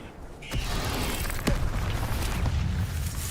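A fire spell cast in Hogwarts Legacy bursts out with a sudden whoosh and boom, followed by a sustained roaring, crackling rumble with a few sharp pops, loud and close with no talk.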